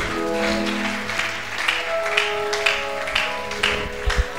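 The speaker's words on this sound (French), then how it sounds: "Tu peux acclamer pour la gloire de Dieu" A church congregation bursts into applause, a dense, sustained wash of many hands clapping with a few sharper claps standing out, loud and continuous from start to finish.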